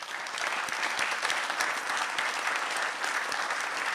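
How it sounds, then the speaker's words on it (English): An audience at a Palmerston North mayoral candidate debate applauds the candidates, a dense, even burst of many hands clapping that fills the whole stretch at steady volume with no one speaking. "Let's give our candidates a round of applause."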